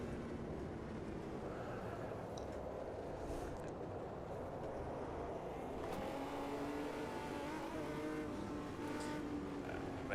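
An Omega stock car engine races at Autodromo Yahuacocha in the Automobilista 2 sim, a loud, steady, continuous drone whose pitch rises and climbs through gears in the second half, with no talk over it.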